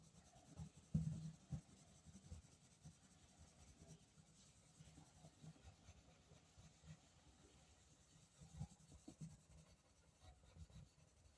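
A pencil blends shading on paper in small circular strokes, giving a soft, faint, steady rubbing scratch with slight rhythmic swells and no talking.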